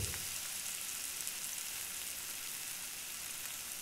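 Chili powder and coriander powder fry with ginger and garlic in a pan while being stirred, giving a steady, soft, close sizzle with no talk.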